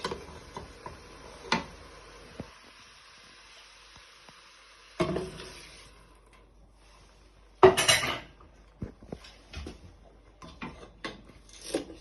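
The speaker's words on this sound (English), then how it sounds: "So you're just breaking it down, giving it all a good stir" Prawn vermicelli being stirred with sauce in a pan, heard as a few separate utensil clinks and scrapes spread through mostly quiet stretches, with a clustered burst of clattering partway through.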